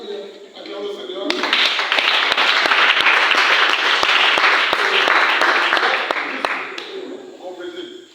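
A congregation in church bursts into loud, sustained applause for the Lord. The clapping swells quickly, holds as a thick, even roar of many hands with a few distinct sharp claps, then tapers off near the end.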